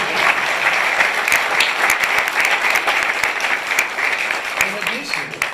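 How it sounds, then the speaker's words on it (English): An audience at a community economic development announcement gives a sustained round of applause, dense, steady clapping from a crowd at a moderate distance. "That's a round of applause right there,"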